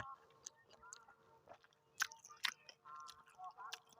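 Close, crunchy chewing of a spicy Thai squid salad with large squid and fermented fish sauce, with sticky rice, in a run of irregular wet bites and crisp crunches, with faint murmurs between.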